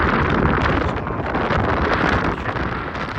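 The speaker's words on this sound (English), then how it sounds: "Very windy though." Strong wind buffets the microphone with a loud, continuous roar and rumble throughout, broadband and steady with slight surges.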